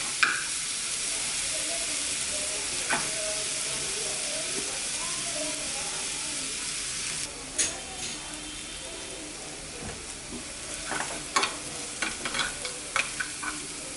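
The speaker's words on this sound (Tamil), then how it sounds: "நல்லா கலர் மாறுற அளவுக்கு நல்லா வதக்கி விட்டுடலாம்" Green chillies sizzle and fry steadily in a pan for corn paniyaram, a constant close hiss broken by scattered scraping and clinking stirs that grow busier toward the end.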